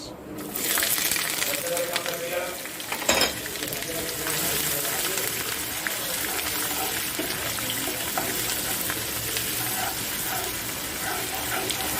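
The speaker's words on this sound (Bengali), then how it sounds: "এর মধ্যে দিয়ে দেবো আগে থেকে কুচিয়ে রাখা পেঁয়াজ" Chopped onion fries in a hot spice tempering, a continuous close sizzle with a sharp clattering hit early on, then steady frying noise throughout.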